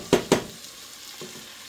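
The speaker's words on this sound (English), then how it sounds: "The onions are starting to catch a little bit here and there." Chopped onions caramelising in a hot pan for burgers give two sharp scraping knocks close together, then a soft, steady sizzle continues quietly underneath.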